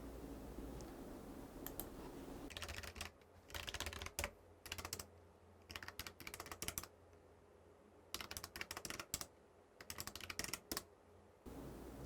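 Bursts of computer keyboard typing while data is entered into accounting software fields, several clusters of quick key clicks separated by pauses, fairly close and alone over a faint background hum.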